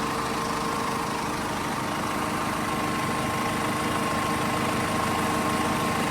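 A BMW 520d M Sport diesel engine idles steadily and close by in an open engine bay, giving a continuous even hum with a faint whine and no change in pace.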